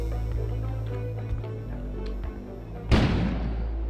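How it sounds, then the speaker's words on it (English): A sudden explosion goes off outside in the video game Kona, a heavy boom that follows a stretch of low rumbling ambience and some scattered knocks, then decays into a fading hiss. "An explosion suddenly occurred outside."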